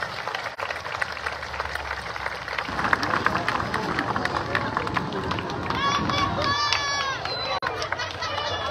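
A crowd at a Holy Thursday Via Crucis procession in Panindicuaro applauds at the close of the evening, and sustained clapping mixes with crowd chatter and a voice over a loudspeaker.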